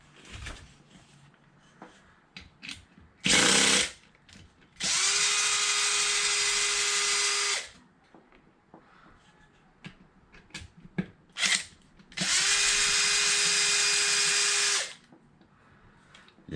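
A power drill loosens the transmission mount on an Arrma Infraction RC car in two sustained bursts of about three seconds each, a steady whine, close and loud, with short clicks and handling noises between them.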